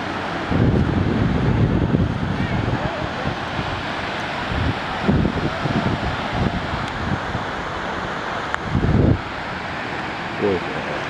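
Ocean surf rumbles and washes at Kuta Beach, Bali, while strong wind buffets the microphone throughout. The low roar swells in uneven bursts, and muffled voices can be heard faintly underneath.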